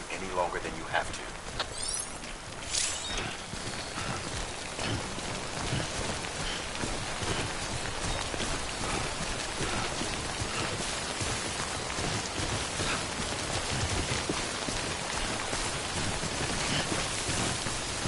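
Rain falling in the video game Death Stranding, a steady dense patter on surfaces throughout, with a spoken voice over it.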